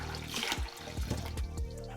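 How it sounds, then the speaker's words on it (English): Running water splashing in a sink as rice is washed in a bowl, with irregular sloshes and bursts of agitated water against a continuous tap flow, close and moderately loud. "I just repeat the process of filling the bowl up, agitating the rice with my hands, and dumping the cloudy water until the water runs almost clear."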